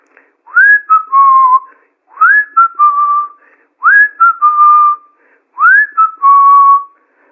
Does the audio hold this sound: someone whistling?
yes